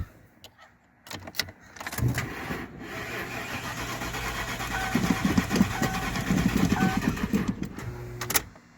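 A car engine turns over with a steady, strong rhythmic cranking and then catches. The sound is fairly close, with light clicks and handling noises around it.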